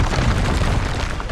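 An Expulso blast spell detonates in Hogwarts Legacy, producing a dense, loud, roaring explosion that fills the whole brief moment without letting up.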